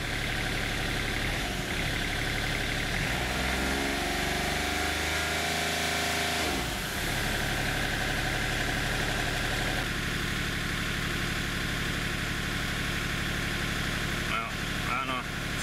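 A Kubota diesel engine swapped into a Geo Metro idles steadily throughout, a continuous near rumble with a brief pitch dip as the idle is adjusted, with someone talking over it.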